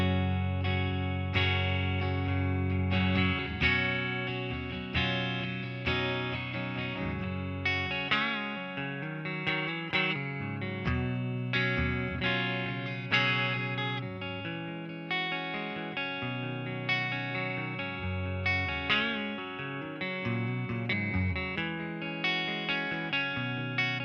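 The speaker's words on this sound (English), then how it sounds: "you can hear the reverb in there as well" A guitar played through the clean channel of a Marshall DSL40C amp, with gain and volume at half and reverb on, rings out in plucked chords and notes that decay into a reverb tail, alone and without talk.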